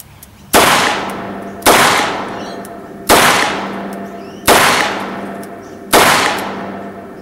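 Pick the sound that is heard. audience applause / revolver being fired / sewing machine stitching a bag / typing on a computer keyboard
revolver being fired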